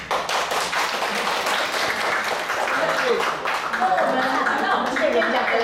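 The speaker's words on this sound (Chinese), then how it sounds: "拍手" An audience in a church gathering claps together, a dense, steady patter of many hands heard close, with voices audible through it.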